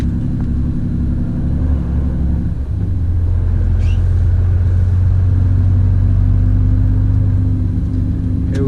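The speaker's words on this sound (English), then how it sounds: "you can push the lever down like this, and then it starts engine braking even more." A truck and trailer engine braking on the road, a loud steady low rumble from the cab that deepens and strengthens partway through, with no talk.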